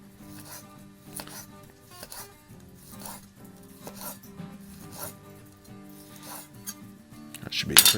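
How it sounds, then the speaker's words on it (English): A knife slicing farmer sausage thin on a board, cutting in a steady rhythm of soft repeated strokes with faint clicks, close and quiet, and a brief clatter at the end. "I'm gonna slice up some of this sausage"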